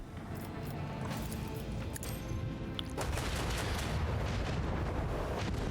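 Heavy broadside cannon fire from a starship in the video game Rogue Trader, a dense continuous rumble of booms and blasts that swells louder toward the end, with no gaps between shots.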